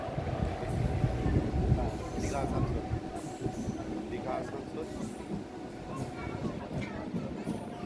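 A new local train bound for Digha rolls slowly into Ramnagar station, heard from on board as a steady low rumble with rhythmic wheel clatter and faint squeals, and a voice in the background.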